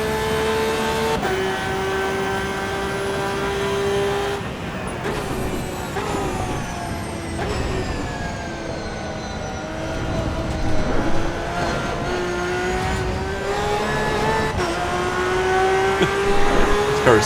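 A race car lapping a track in the racing game Assetto Corsa EVO, its engine droning loud and steady, then rising in pitch and dropping sharply at each gear change, with no talk over it.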